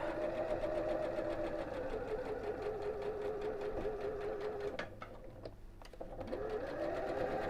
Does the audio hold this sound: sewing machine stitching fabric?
yes